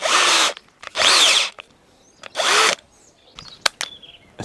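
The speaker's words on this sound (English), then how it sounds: "Now let's test the impact drilling." A Bosch Professional GSB 18 V-21 cordless lithium-battery impact drill runs in three loud, whining bursts of about half a second each, separated by short pauses, followed by a few sharp clicks and brief mechanical sounds.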